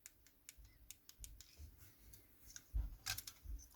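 Repeated small plastic clicks from the L button on a Nintendo Switch controller being pressed, quiet and close, arriving in quick irregular bursts.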